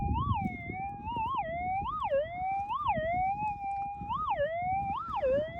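A Minelab GPX 6000 metal detector signals on a target with a loud, warbling, wavering tone that rises and falls repeatedly over several seconds, under faint rustling and handling noise.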